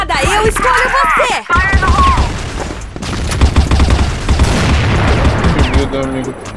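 Loud bursts of rapid gunfire and a grenade blast from the online shooter CrossFire, with rattling shots and impacts layered under game effects throughout, the volume staying high and close.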